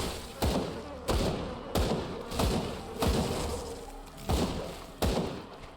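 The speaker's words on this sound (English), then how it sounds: "A pretty slow rifle." Slow rifle fire in the video game Grim Dawn: seven heavy, booming shots spaced roughly evenly, each with a short decaying tail, close and loud.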